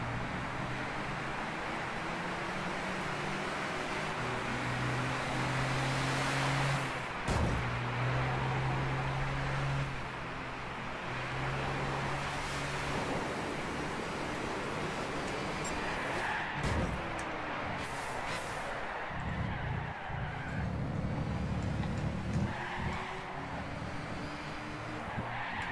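Race cars roar through a GT national championship race in Gran Turismo 6 on PS3, with sustained engine drones, gear shifts and repeated tire squeals and skids, loud and continuous throughout.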